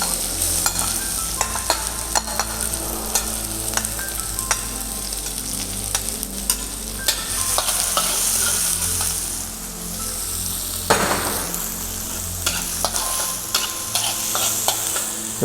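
Chopped onion sautés in a pan with coriander seeds, cumin and whole red chilies over low to medium flame, giving a steady loud sizzle broken by scraping stirs and a brief spatter burst midway.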